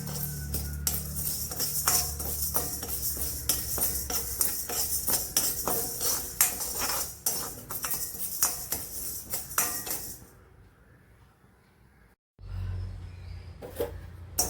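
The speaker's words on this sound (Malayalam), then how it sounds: "ഇതൊന്ന് എണ്ണ ഒഴിക്കാതെ തന്നെ വറുത്തെടുക്കാം" Toor dal and curry leaves dry-roast in a pan without oil, a busy close rattle and scrape of stirring with metallic clinks, then a sudden drop to quiet near the end, a brief silence and a final clatter.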